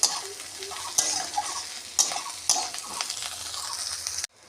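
Soybean chunks frying with onions in a pan, a steady sizzle broken by sharp clacks of a spoon stirring and scraping at roughly one-second intervals, close and alone before cutting off.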